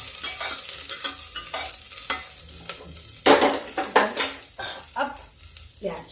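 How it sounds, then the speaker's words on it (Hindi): Garlic and chili fry in hot oil in a pan, with a steady close sizzle under repeated scraping stirs of a spoon against metal, growing louder bursts partway through. "अब इसमें हम डाल देते हैं ये लहसुन और मिर्चा। अब इसको हम थोड़ा हल्का सा भून लेते हैं।"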